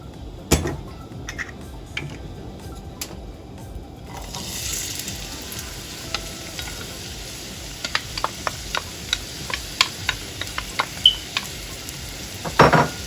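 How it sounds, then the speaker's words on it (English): Chopped onions sizzle in olive oil in a pan, a steady low hiss broken by sharp clinks and scrapes of a utensil stirring against the metal. "so I can saute the onions"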